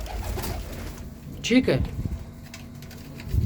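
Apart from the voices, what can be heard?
pigeons cooing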